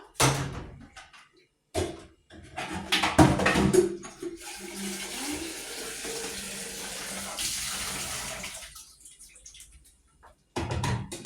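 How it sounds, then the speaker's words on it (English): Water is poured into a cooking pot for a local South African meal. A few knocks and clatters come first, then a steady rushing stream runs for several seconds and tapers off, followed by more handling noise. "Okay, so here I need to pour water."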